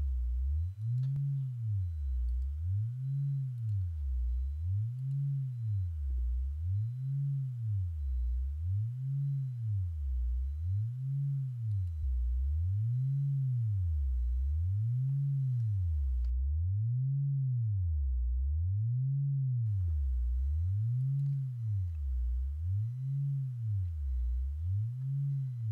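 A low test tone swept through a matched-slope crossover, rising and falling in a steady wavelike cycle about every 1.7 seconds, with a brief silent gap partway; alone, no voices.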